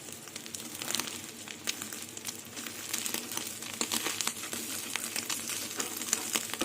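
Duck egg omelettes sizzle in a pan, a faint steady crackle and spit with dense irregular pops throughout, close and without talk.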